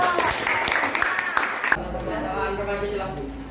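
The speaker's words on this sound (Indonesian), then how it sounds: "tepuk tangan dulu untuk kelompok 3" Classroom applause for a student group finishing their presentation, a short burst of clapping that stops abruptly partway through and gives way to quieter room sound.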